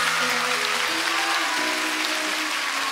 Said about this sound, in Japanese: 皆さん今一度大きな拍手をお願いします。